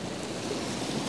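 A small, shallow river flows steadily nearby, a constant broadband rush of running water with no voices over it.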